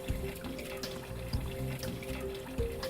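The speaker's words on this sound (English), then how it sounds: "rinse the entire device with deionized water for 1 minute" Deionized water runs steadily over a surgical instrument in a sink, a soft continuous splashing stream with faint drips, quiet and close, with no talking.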